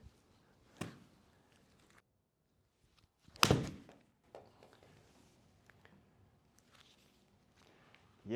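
Mizuno golf iron, either a Mizuno Pro 225 or a JPX 923 Hot Metal Pro, striking a low shot on a range: one sharp clean impact near the start, then a louder, stronger strike midway, with quiet gaps and small thuds between.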